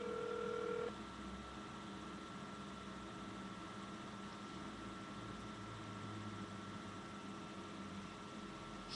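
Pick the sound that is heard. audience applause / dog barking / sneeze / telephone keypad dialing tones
telephone keypad dialing tones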